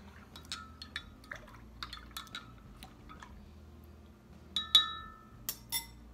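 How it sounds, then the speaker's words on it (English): Homemade herbal shampoo is stirred in a glass, giving scattered light clinks and taps of a utensil against the glass, sparse at first and louder with a few sharp rings near the end, with no talking. "And give that a stir."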